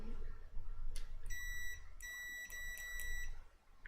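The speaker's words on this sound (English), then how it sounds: "let's make sure we have a multimeter here, and I'm going to make it beep" A multimeter beeps in short, sharp tones during electronics assembly: a brief chirp, then a longer steady beep and a few quick pulses, heard close over a low background hum.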